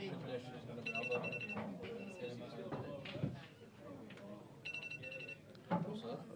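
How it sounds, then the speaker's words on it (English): Mobile phone ringing in a room during a blackball pool match, two bursts of bright electronic tones about four seconds apart, with people talking throughout under and between the rings. "That'll be Daz's phone."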